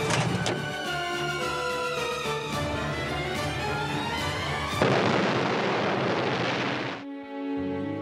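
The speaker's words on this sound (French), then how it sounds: "The explosion entirely blew out the building" A bomb explosion in a building erupts as a loud, dense roar that swells, then breaks into a crackling rumble before it cuts off.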